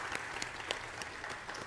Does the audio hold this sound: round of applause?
yes